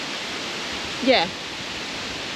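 Strong wind blowing steadily across an off-grid bush campsite near Cooktown, a broad, constant roar filling the scene, with a brief spoken word rising over it midway.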